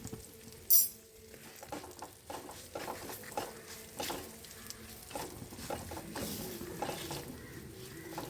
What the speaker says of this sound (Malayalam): ഇതെല്ലാം കൂടി നന്നായിട്ടൊന്ന് മിക്സ് ചെയ്യുക